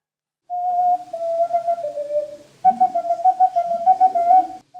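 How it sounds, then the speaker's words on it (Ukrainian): A 3D-printed plastic ocarina plays a simple melody, breathy, with a long sustained tone that dips, then a brisk run of repeated tongued notes, bright and close. "Так звучить надрукована на 3D-принтері окарина."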